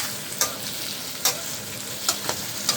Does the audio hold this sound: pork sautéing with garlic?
yes